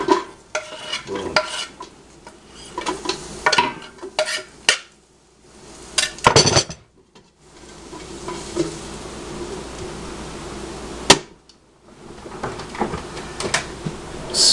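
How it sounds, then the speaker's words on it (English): Carrots being chopped with a knife in a home kitchen for mashed potatoes, with uneven bursts of close, sharp knife taps separated by short pauses and some clatter of cookware around them. "I'm going to be chopping up some carrots and adding it to that water."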